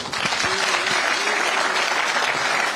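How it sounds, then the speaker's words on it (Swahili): A crowd at a Nairobi gathering of people living with disabilities claps steadily and loudly throughout, a dense wash of applause with a brief voice or cheer near the start. "Tumpigie makofi tena."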